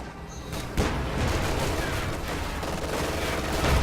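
Scots musket volleys crackle through a strategy video game battle, a dense, continuous barrage of overlapping shots and dull booms, loud and steady throughout with a sharp burst near the start.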